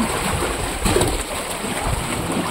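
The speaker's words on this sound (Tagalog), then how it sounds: "Yan, ang lakas ng alon." Strong waves churning against rocks along a rocky shoreline, a steady loud wash of surf with a brief surge near the start, close and continuous with no talk.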